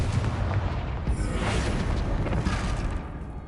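The Confringo blasting spell going off in Hogwarts Legacy, a dense, rumbling explosive blast with crackling debris, loud and sustained for a few seconds.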